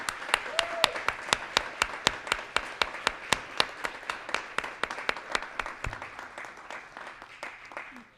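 An audience applauds award honorees at a community builder awards ceremony, the clapping sustained and steady for about eight seconds, with sharp individual claps standing out from the crowd's dense patter before it tapers off at the end.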